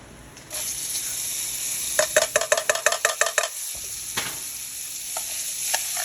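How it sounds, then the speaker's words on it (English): Browned rice pilaf with vegetables sizzling in a hot oiled pan, with a quick run of rhythmic scraping strokes as it is stirred, then a few separate clinks over the steady fry. "Give that a stir."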